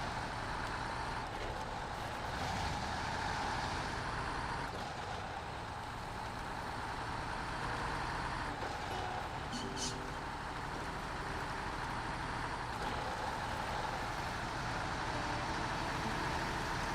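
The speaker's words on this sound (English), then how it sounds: "this truck makes so many weird noises" Snowrunner truck engine drone, a steady low rumble with shifting tones and an occasional hiss, continuous and fairly quiet under a voice talking.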